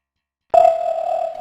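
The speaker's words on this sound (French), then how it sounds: "La sonnerie a retenti." An end-of-class school bell at a French collège sounds as a single steady electronic tone that switches on abruptly and holds evenly for about a second, alone with no voices.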